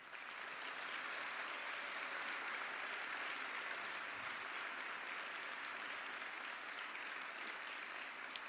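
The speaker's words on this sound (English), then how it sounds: "give them a rousing round of applause" Audience applause for commissioners at a county State of the Community address, a steady, sustained clapping from a large crowd, even and fairly distant throughout with no speech over it.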